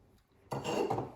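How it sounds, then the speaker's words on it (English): A whisk scrapes and clatters against a bowl, mixing waffle batter with milk and melted butter, starting abruptly after a quiet moment and continuing as close, steady rhythmic strokes without any talk. "And we're gonna whisk everything together."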